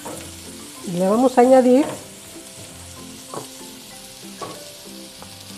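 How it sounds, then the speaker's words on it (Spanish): Chopped onion sizzles steadily in a hot pan, frying until soft and translucent, with a Spanish-speaking voice talking briefly over the crackle near the start. "la cebolla, a que se acitrone"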